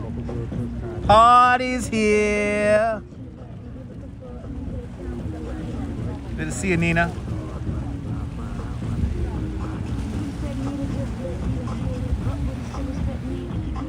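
A loud party boat passes on the river by New York's Queensboro Bridge, its engine a steady broad rumble that runs the whole time, with music and people talking over it at the start.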